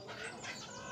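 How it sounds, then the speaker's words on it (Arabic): A rooster lifted and held up in the air, giving a short, close cluck lasting about a second. "امسك لي الديك، احبسه في البيت وهاته"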